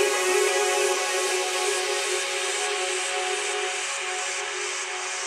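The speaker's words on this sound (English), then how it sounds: "with a noise down effect and a noise up effect" Broadband noise sweep effects, a falling noise-down and rising noise-up layer in a music production, hiss loud and steady with a slowly shifting, fading texture and no voices.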